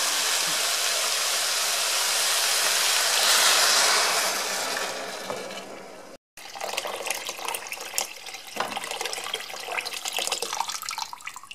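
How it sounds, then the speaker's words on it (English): Water from a tap poured into a pot over rinsed split peas: a steady, close rushing stream for about six seconds, then a brief cut and softer splashing and trickling as the pot fills. "now we're just going to cover it up with water"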